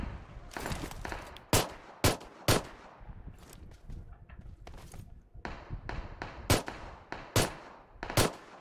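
Shotgun blasts in PUBG Mobile sound as a series of sharp, loud reports spaced irregularly over several seconds, with quieter clatter and game noise between shots.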